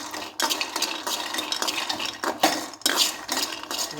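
Peanuts frying slowly in a kadai, with repeated scraping and stirring clatters of a metal ladle against the pan, close and fairly loud in uneven bursts.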